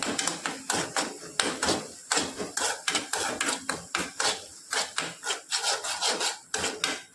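A spoon scrapes and stirs black chickpea gravy in a pan in steady, rhythmic rasping strokes, close and moderately quiet, with no voices.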